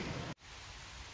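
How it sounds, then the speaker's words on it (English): Rain falls onto open water on a wet day out magnet fishing, a soft, steady hiss of drops that cuts out briefly, then resumes at a lower level. "Look at the rain bouncing off at water."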